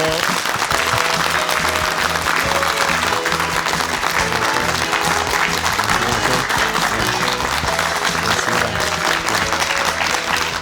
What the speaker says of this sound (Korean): 정석환 교수님 모시겠습니다. 박수로 맞이해 주시기 예, 바랍니다